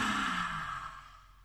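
A long deep inhale during a laughter and breathing exercise session, a soft airy breath that fades steadily over about a second and a half, with no talking.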